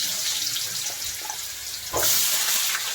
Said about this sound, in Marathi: आता याच्यात मी बटाटे घालणार, बटाटे पण परतून घेते।